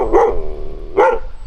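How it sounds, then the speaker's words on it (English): A dog in Switzerland gives two loud, close barks about a second apart, each short and clear, with nothing else heard. "the dogs in Switzerland are barking."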